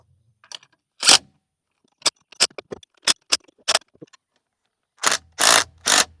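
Short bursts of a DeWalt power tool backing bolts out of a Bush Hog 286 clutch, a few buzzy spurts followed by scattered clicks and ticks of metal parts, then three louder whirring runs close by.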